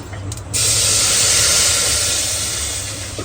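Kadhi poured into a hot pan for urad dal kadhi gives a sudden loud, broad hiss that bursts in after a brief pause, holds strong, and then slowly fades.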